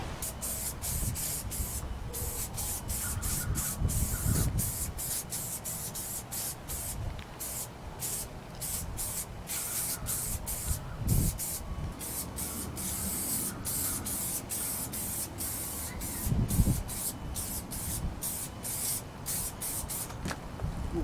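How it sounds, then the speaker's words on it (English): Long hissing bursts of contact glue spray from an aerosol can repeat in a steady rhythm, close and moderately loud, with occasional soft thumps. "spray some contact glue on it"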